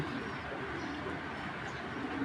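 Soft cooing of Giribaz tumbler pigeons blends into a steady murmur of background noise, low and continuous throughout.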